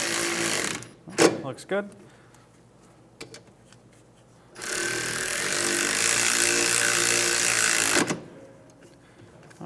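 Ratcheting and tool clatter while snugging up caliper bolts on a 2003-2011 Honda Element rear wheel hub, with a sustained loud whirring burst of a power tool in the middle and brief metallic clicks before and after, with a short spoken remark.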